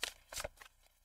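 A tarot deck is shuffled in a couple of quick, close riffling bursts of card-against-card flutter, with short pauses between them.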